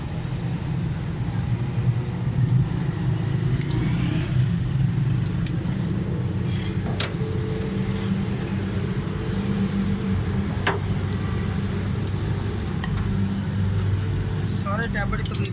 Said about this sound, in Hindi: तो फिर गाड़ी स्टार्ट करूँगा